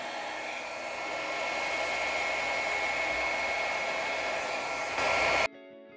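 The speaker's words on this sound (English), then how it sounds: "I've got this travel size hair dryer on low." A travel-size hair dryer runs on its low setting while spreading acrylic pour paint, a steady close whooshing hum that briefly louder near the end, then cuts off abruptly.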